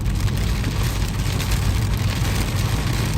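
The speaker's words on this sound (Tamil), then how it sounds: "மழை அப்படி இருக்கு." Heavy rain pours steadily around a car on the road, a dense continuous hiss and drumming of water with a low rumble underneath, loud and unbroken, with no voices.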